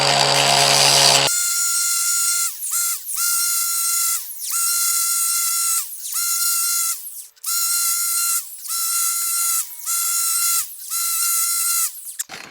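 A grinder sharpens a chainsaw chain clamped in a vise, a high whine broken into about eight steady passes with brief dips between them, loud and close with a burst of harsher noise at the start.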